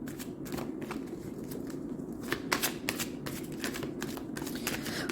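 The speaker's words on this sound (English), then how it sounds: "We're going to pull some more cards from our Prism Oracle" A Prism Oracle card deck is shuffled and cards are pulled, producing quick, close bursts of riffling and flicking paper that repeat steadily for several seconds.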